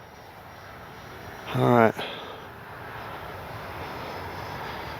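An RC FMS Su-27 with twin 70mm electric ducted fans flies a gear-down pass overhead, a steady distant jet whine under a brief spoken remark.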